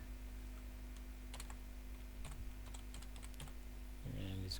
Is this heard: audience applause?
no